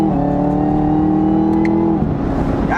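A Chevrolet Camaro ZL1 pulls hard in fourth gear on a highway. Its engine holds a loud, steady, rising drone close by, then shifts and eases near the end.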